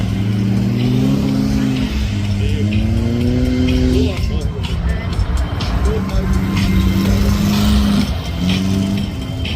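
Ford Mustang cars race on an ice track at Zell am See, with engines droning and revving in long, shifting tones while a commentator talks over the continuous noise.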